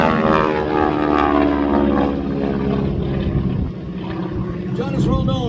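North American T-6 Texan propeller plane performing airshow maneuvers at a Southern California airshow, a loud droning radial engine whose pitch shifts as it passes, with an announcer talking over it.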